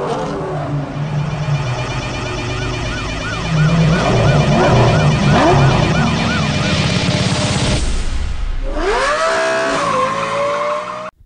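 Street racing in the Need for Speed Most Wanted video game, set in Fairhaven: loud roaring engines and repeated squealing tires, with wailing police sirens rising and falling, and a brief lull before another car screeches in.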